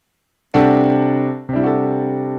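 Low brass, trombones and tuba, sound a C over D slash chord: a loud sustained chord that starts abruptly, dips briefly, then is struck again and held, with no talking.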